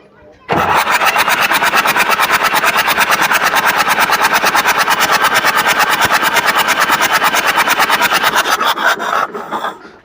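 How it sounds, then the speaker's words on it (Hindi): A tractor engine cranked on its self-starter after an accident, oil spraying out through its three injectors; a loud, rapid, even rhythmic churning starts abruptly and runs steadily for about nine seconds before winding down. "हम इसे जब सेल्फ लगा रहे हैं तो किस तरह से इसमें ऑयल बाहर आ रहा है तीनों इंजेक्टर के रास्ते से"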